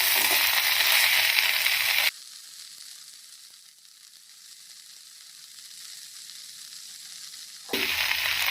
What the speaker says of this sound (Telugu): ఇది మొత్తం పచ్చివాసన పోయి ఫ్రై అయ్యేంత వరకు కూడా ఫ్రై చేసుకోవాలి